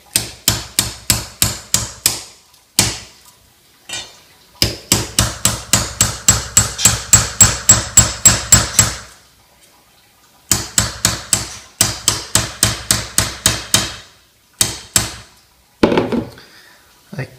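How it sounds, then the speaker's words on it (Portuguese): Metal hunting arrowhead being hammered onto an arrow shaft: loud, rapid bursts of sharp hammer blows in quick rhythmic runs, separated by short pauses, close and dominant. "eu vou martelar ela aqui. Vamos ver se dá para ver aqui. Vamos martelar aqui e fazer ela entrar lá embaixo"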